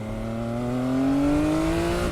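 A 2019 Triumph Speed Triple RS 1050 motorcycle engine revs up loudly and continuously, its pitch rising steadily as it accelerates.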